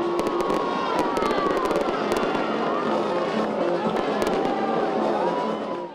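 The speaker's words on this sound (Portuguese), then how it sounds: "Em contagem regressiva e com fogos de artifício, as luzes se acenderam." Fireworks crackle and pop continuously at a Christmas tree lighting ceremony, with a dense barrage of bursts and a cheering crowd underneath, loud and steady for several seconds before tailing off.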